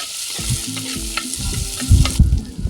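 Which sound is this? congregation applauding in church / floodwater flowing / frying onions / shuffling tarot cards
frying onions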